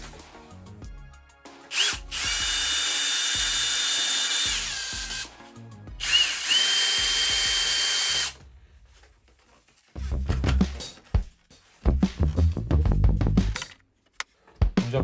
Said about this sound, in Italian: Adesso vado a montare le mie viti ovviamente sempre col mio trapano Bosch.